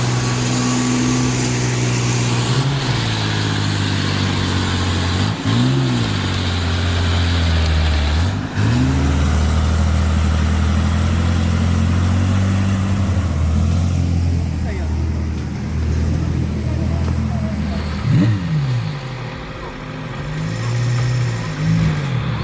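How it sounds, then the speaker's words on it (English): A Mercedes Unimog 4x4 truck churns through muddy off-road terrain, its engine a loud, close, continuous drone that rises and falls with repeated revving surges. "A Mercedes double-traction vehicle takes on the challenge of NECA Off-Road's muddy terrain."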